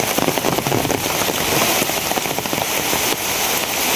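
Heavy rain pours down next to a veranda in a dense, unbroken wash of patter and hiss, with sharp crackling drops peppering the steady roar from start to finish.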